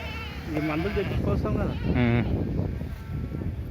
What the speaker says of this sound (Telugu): మేకలు ఉన్నాయి గొర్రెలు ఉన్నాయా